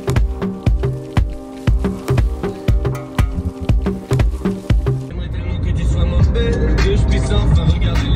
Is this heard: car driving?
yes